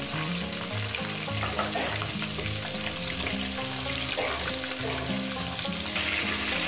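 Rohu fish heads fry in a pan of hot oil, a steady, dense sizzle and crackle that holds at even loudness throughout, close by with no talking.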